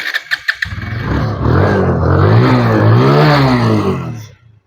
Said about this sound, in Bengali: বাইকটি কিন্তু স্টার অবস্থায় রয়েছে সাউন্ড কোয়ালিটি আপনাদের শোনার চেষ্টা করবো